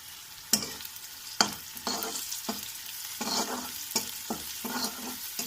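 Curry leaves and a pinch of turmeric sizzle in hot oil for besan curry, with a steady frying hiss broken by several sharp crackling bursts and stirring scrapes, close and fairly loud.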